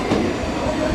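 A Tobu Railway 500 series Revaty train rumbles into a station platform, a steady, loud, close mechanical roar of wheels and motors with no voices over it.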